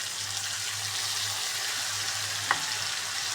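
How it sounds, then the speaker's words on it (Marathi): Soaked moth bean dal sizzles steadily in a hot pan, a dense, even frying hiss with a low hum beneath and one small clink near the end. "ह्याच्यामध्ये मी डाळ टाकून घेणार आहे म्हणजे मटकीची डाळी भिजवून घेतली"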